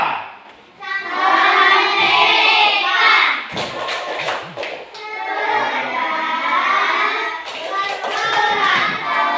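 Children in an Indonesian classroom perform a rhythmic clapping chant, sung voices carrying the pattern while hand claps and thuds punctuate it in bursts, loud and close with brief pauses between phrases.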